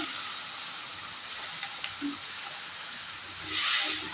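Water is poured into hot spice masala in a pan for a jackfruit-seed curry, sending up a loud, steady hiss of sizzling steam that swells into a stronger burst near the end.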